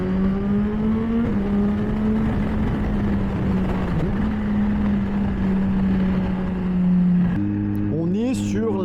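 A Kawasaki Z H2 supercharged motorcycle revving hard and quickshifting without cutting the throttle, a loud, sustained engine howl whose pitch steps at each gearchange, ending in rising revs.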